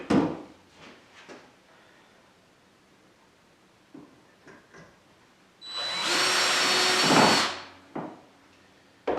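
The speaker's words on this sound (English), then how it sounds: "Drill a pilot hole." A power drill whirs loudly for about two seconds while boring a pilot hole for a screw in cabinet drawer work, surrounded by quiet clicks and handling noises.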